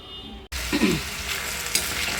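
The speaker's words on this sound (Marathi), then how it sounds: "तेल टाकूया आणि यांना फ्राय करून घेऊया" Oil hisses and sizzles steadily as potatoes fry in a pan, with a brief scrape of stirring near the start.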